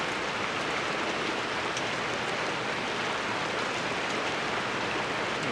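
Steady, dense rain drums on a box truck camper, a continuous even hiss of drops on the roof with no pauses or voices.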